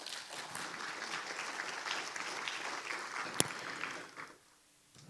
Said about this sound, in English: let's give another round of applause for Mr. Sam Ong for his keynote speech.